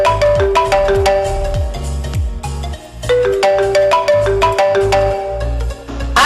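A phone rings loudly with a repeating melodic ringtone for an incoming call, looping in steady bursts with no one talking over it.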